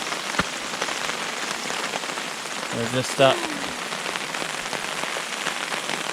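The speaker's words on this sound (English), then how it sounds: "in camp and it's pouring rain" Pouring rain patters steadily at a wilderness camp on the Wind River canoe route in the Yukon, a dense continuous hiss with a brief voice speaking partway through.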